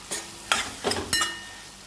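A spoon stirs mashed drumstick pulp into frying vegetables in a pan for drumstick bharta, making four short, close scraping strokes with a light sizzle underneath.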